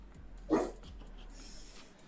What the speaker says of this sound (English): He's barking at a wall, which is making me really nervous.